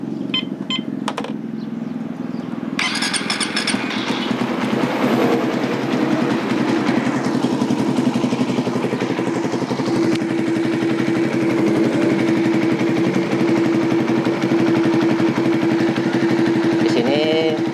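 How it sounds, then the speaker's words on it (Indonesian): Motorcycle engine running and being revved repeatedly while waiting for the radiator fan to switch on, a steady close engine drone with rising revs, a voice talking over it. "Sambil menunggu kipas radiatornya nyala, kita geber-geber dulu lah."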